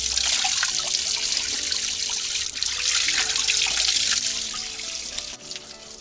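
Spring water trickles and splashes steadily from a spout, a continuous close gurgling flow with small drips, no talking.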